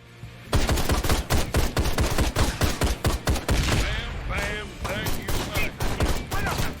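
Rapid turret machine-gun fire in the video game Ride to Hell: Retribution, a dense, loud stream of shots that briefly slows and then resumes, with a voice shouting over the gunfire.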